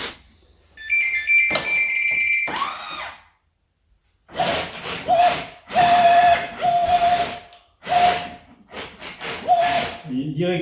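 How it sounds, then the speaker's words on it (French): A Swincar E-Spider electric off-road vehicle gives a small whistle when it changes direction. Several clear, steady whistling tones sound in separate bursts with brief gaps between them, mixed with short hissing and mechanical noise. "quand on change de sens, on a un petit sifflement"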